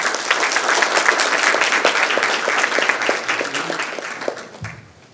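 An audience at a live panel discussion on South African and US political tensions applauds a provincial MEC being introduced, steady dense clapping from a sizeable crowd that holds for several seconds, then thins out and fades near the end.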